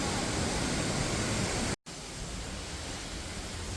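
Diyaluma waterfall in Sri Lanka, heard from near its base: a loud, steady broadband roar of falling water that stays constant, broken once by a very short dropout partway through.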